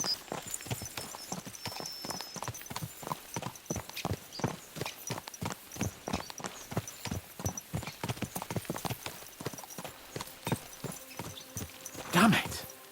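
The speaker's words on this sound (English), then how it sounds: "Let's really spur these horses on, eh?" Horses trotting in Kingdom Come: Deliverance II, hooves clip-clopping in a steady rapid rhythm for the whole stretch, close and fairly loud, with a brief whinny or snort near the end.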